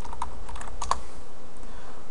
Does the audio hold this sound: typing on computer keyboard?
yes